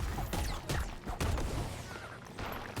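Explosions in the video game MIO: Memories in Orbit, loud bursts and crackling impacts repeating over about three seconds amid dense game effects, with no voices.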